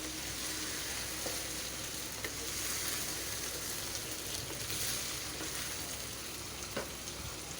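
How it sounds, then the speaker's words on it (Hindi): Ginger and chicken fry in a karahi for Irani chicken karahi, a soft continuous sizzle with faint scattered clicks from stirring, fairly quiet and steady throughout with no talking. "और इसको अच्छे तरीके से भून लेंगे।"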